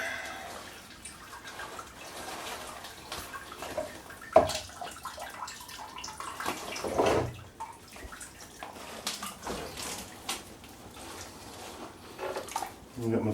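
About eight litres of sparge water pour steadily into a vessel on a Belgian Dubbel brew day, with splashing and a few clanks, while someone talks over it.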